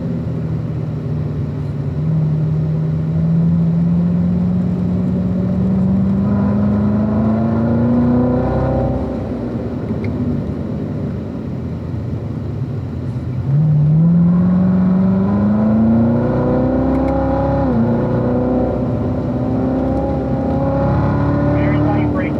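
Race car on the Spring Mountain track accelerating out of corners: engine pitch climbs steadily twice in long pulls, loud and close, while a voice talks over it.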